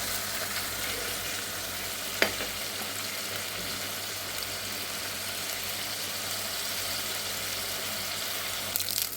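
Fish frying in a pan of oil, a steady broad sizzle throughout with a sharp clink near the start and another near the end, no voices.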